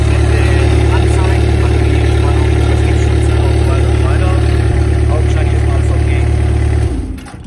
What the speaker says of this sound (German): der Motor läuft noch